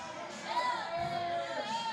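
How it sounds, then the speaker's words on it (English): Faint, distant spectators cheer and murmur at a doubles pool championship final, a brief swell of crowd noise with whoops. "They're cheering."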